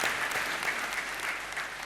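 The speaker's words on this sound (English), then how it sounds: "A big round of applause to you." A conference audience claps steadily, a dense wash of many hands applauding without pause, fairly loud and close throughout.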